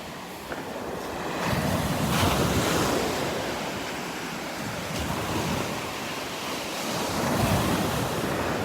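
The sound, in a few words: ocean waves on Vanderbilt Beach with wind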